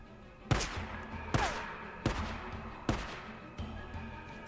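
Gunfire in the video game Days Gone: five sharp, loud shots spaced roughly a second apart, each with a short echoing tail, the last one softer, against a low background.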